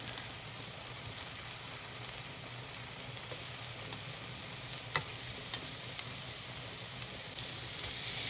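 Shrimp sizzling steadily in a hot pan as they are added, a continuous broadband frying hiss with a few sharp pops and clicks, fairly close and even throughout.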